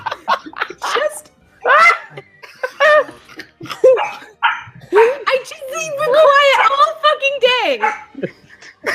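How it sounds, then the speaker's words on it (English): Dogs bark repeatedly in the background while people talk and laugh over them, the barks rising and falling in bursts through the scene. "I can't make the dogs not bark."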